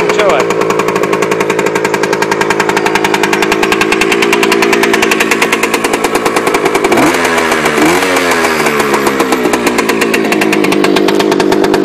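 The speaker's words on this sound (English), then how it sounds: "It's like a brand new motorcycle. Listen to her run." A 1999 Kawasaki KE100 two-stroke motorcycle idles after a cold start, giving a loud, close, rapid buzzing putter. Two quick throttle blips lift the pitch briefly.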